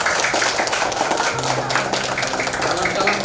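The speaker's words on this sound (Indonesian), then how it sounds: "Oke, tepuk tangan dulu untuk kita." Steady group hand clapping fills a school visit gathering during a study tour. The patter is dense and continuous, with voices and some background music underneath.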